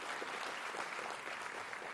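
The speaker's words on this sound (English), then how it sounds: "So give him a very big round of applause." An audience claps at the IIT Hyderabad convocation ceremony, giving a short, dense burst of steady applause that sounds somewhat distant and hall-like, with no voices.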